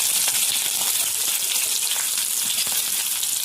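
Onion sautéing in oil with mustard seeds, cumin, curry leaves and green chili makes a loud, continuous sizzle, with bright crackles and faint stirring scrapes running steadily close by, and no voices.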